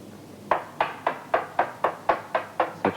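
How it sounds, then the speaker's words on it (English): A mallet strikes a chisel into wood while a housing joint is cut, giving about ten sharp, evenly spaced knocks in a brisk, steady rhythm, close and clear with quiet gaps between blows. "tap it with the mallet"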